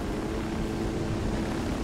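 A helicopter in the video game Ghost Recon Wildlands, a steady, loud, continuous rotor and engine roar with no breaks, filling the whole moment.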